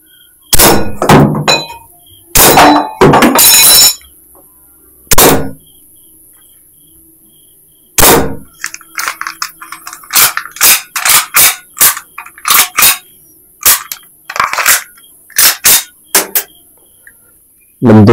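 E&C OPS MRP Hi-Capa gas blowback airsoft pistol fired at a Texas Star target: sharp, close snapping shots, a few spaced at first, then a rapid uneven string of about fifteen cracks.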